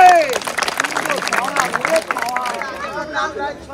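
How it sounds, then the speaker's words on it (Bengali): Brief applause from a crowd at an outdoor village game challenge, scattered clapping mixed with lively chatter and voices that taper off toward the end. "জোরে একটা তালি হবে"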